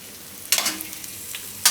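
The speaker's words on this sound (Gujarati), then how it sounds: "અને આપણે થોડીક વાર તેલમાં આ રીતે શેકી લીધું." Rice stirred and frying in oil in a pan for a Gujarati thecha rice, with soft crackling sizzle and a couple of sharper scraping bursts of a spoon against the pan, close and alone.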